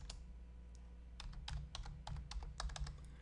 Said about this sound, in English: we could just let's just type in fitness